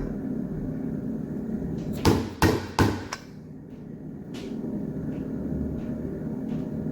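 Three sharp hammer blows drive a smaller bushing driver into a bushing of a 1973 Dart Torqueflite transmission, a quick evenly spaced series, then a lighter tap against a steady background hum.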